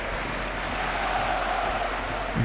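A packed stadium crowd roars steadily at a third-division football match between Eintracht Braunschweig and 1860 Munich. The dense, continuous wash of voices holds at an even level throughout, with no single voice standing out.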